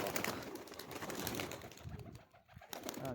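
A healthy pigeon coos in low murmuring calls, heard close amid a busy, noisy background of rustling and handling sounds.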